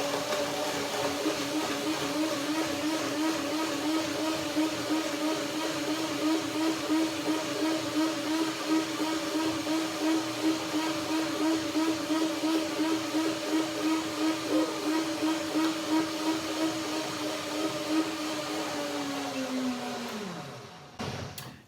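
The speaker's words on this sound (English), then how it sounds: "Just a short blending to begin, to break down the ingredients." A blender runs steadily on papayas, berries and cashew cream with a little water, a loud continuous whirring drone that holds for about twenty seconds before winding down and stopping.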